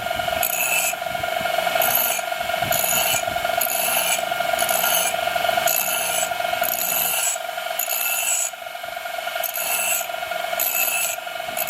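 A steel drill bit is sharpened against a grinding wheel, a steady whirring hum with rhythmic bursts of rasping as the bit is pressed and lifted repeatedly, close and continuous, with no talk.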